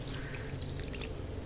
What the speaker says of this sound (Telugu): ఒక కప్పుడు చింతపండు రసం వేస్తున్నాం.